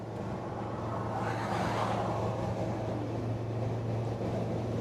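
Non-turbo 2.4 van with a big bore stainless exhaust cruising on the flat with a window open, a steady low drone under broad wind and road rush, constant and moderately loud.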